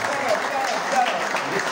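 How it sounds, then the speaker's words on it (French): Audience members at a film screening applaud a producer, a steady crowd clapping that carries through with a voice talking over it. "Applaudissez pour lui."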